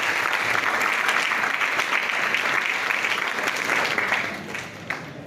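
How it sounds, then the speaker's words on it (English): Steady applause from an audience at a Sierra Leone healthcare app launch held with the Ministry of Health, sustained and fairly close for about four seconds before thinning out near the end. "Round of applause."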